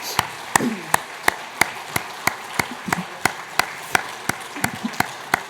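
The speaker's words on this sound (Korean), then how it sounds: "우리 선물 전달할 때 같이 크게 박수해 주실까요?" A church congregation at a Christmas thanksgiving service claps in slow, evenly spaced single claps, about three per second, sharp and distinct rather than a dense wash, with faint murmuring between beats.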